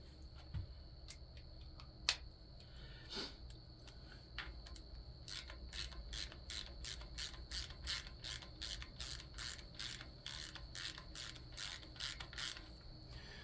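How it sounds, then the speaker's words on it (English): A quarter-inch ratchet clicks during a Honda K24 engine build, first in a few scattered clicks and then in a steady, rapid run of quiet clicks over low workshop hum. "Now we're going to go back to the same exact 1/4 inch ratchet I've been using the whole video."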